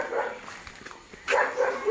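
Dog barking close by, a couple of sharp barks at the start and a louder burst near the end, with a voice faintly in the background.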